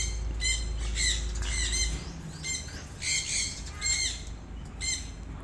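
A captive Ku-ang bird squawks repeatedly in short, rasping bursts spaced about a second apart, close and clear over a low background hum that stops partway through.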